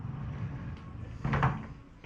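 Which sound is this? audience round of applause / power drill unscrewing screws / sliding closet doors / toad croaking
sliding closet doors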